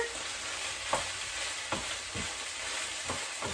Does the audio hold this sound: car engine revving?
no